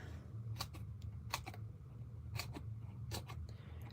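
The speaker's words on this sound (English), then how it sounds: "Now, let's just cut apart." Scissors cutting apart sheets of True Blue designer series paper for a fun fold card, giving a handful of crisp snips in irregular bursts, close and fairly quiet over a low steady hum, with no talking.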